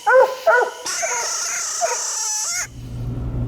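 Hounds from a raccoon hunt, two loud, sharp barks close by, then whining, yelping cries over a bright sustained whine that cuts off abruptly into a low engine-like hum.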